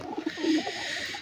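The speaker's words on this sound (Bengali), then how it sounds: "পায়রাটা ডিম দেবে আজকালের মধ্যেই" A female pigeon, a hen of a domestic pigeon flock kept at a home loft, gives a soft, low coo with a rising and falling murmur. It sounds close and carries steadily over a faint background hiss.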